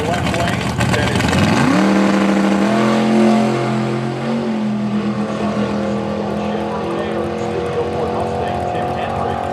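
A drag racing car's engine roars at Xtreme Raceway Park during a drag racing event, a loud rising rev settling into a sustained droning pull, with commentary talking over it.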